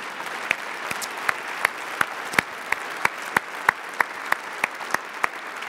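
Steady audience clapping at a church talk, a moderate crowd applauding with a few distinct sharp claps standing out rhythmically over the softer wash of hands.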